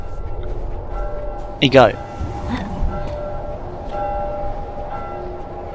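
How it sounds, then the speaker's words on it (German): A church bell tolls in The Last of Us during a snowstorm, a deep sustained ring lingering under a loud outburst of voice and other in-game noise. "Wer läutet denn diese verdammte Glocke?"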